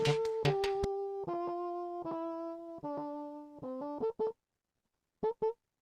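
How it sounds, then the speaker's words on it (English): Bassoon-like reed tone carrying the main melody of Tool's Sober as a solo, sustained notes stepping downward in a steady phrase, then a few short detached notes after a brief pause. "really the solo is just the main melody on bassoon."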